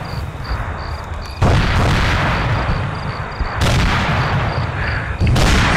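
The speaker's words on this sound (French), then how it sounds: "y'a l'artillerie qui tombe" Artillery shells falling and exploding in the video game Arma 3, loud heavy booming blasts that come in bursts with rumbling tails, close and dense, without talk.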